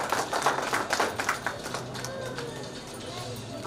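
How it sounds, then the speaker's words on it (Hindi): Audience applause at a Hindi book launch, with a patter of clapping loudest in the opening seconds that thins and fades, while a voice speaks over it. "तालियों के साथ अभिनंदन"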